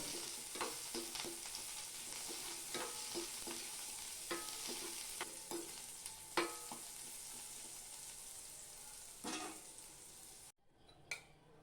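A utensil repeatedly scrapes and clicks against a frying pan as cumin and pepper are stirred over a faint sizzle, ending with a brief pause and a final tap.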